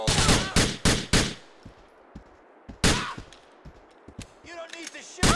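Loud gunfire in a GTA IV shootout: a rapid cluster of close shots at the start, a heavy blast near the middle, then scattered sharper shots, with shouting voices in between.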